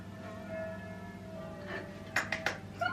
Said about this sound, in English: church is doing wedding bells